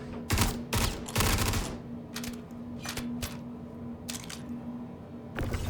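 Bursts of gunfire from a video game, several loud volleys of rapid shots spaced out over a few seconds with quieter gaps between them and a steady background hum underneath.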